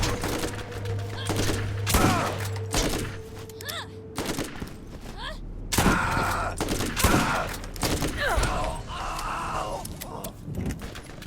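Rapid bursts of video game gunfire cut down enemies, volleys of shots cracking in clusters over a steady background hum, with brief pauses between flurries.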